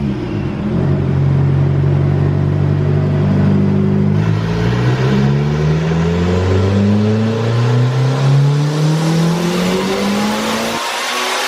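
A turbocharged Honda Integra engine, boosting near 15 psi on a dyno, revs hard and loud, with rising and falling harmonic sweeps as it pulls through the gears, cutting off abruptly at the end.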